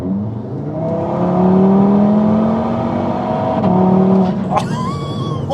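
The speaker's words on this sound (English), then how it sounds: "that, my friends, is Audi's signature 5-cylinder engine" An Audi TT RS five-cylinder engine revs hard and climbs in pitch, a loud, close, rising drone with induction sound, then a sharp burst as it shifts near the end.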